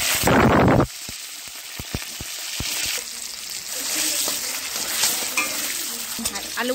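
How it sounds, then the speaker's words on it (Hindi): Potatoes drop into hot oil in a kadai, bursting into a loud sizzle at first, then settling into steady frying crackle punctuated by several sharp spoon clicks against the pan. "कड़ाई तेल दिए दिल। आलूगुलो भेजे निच्छि।"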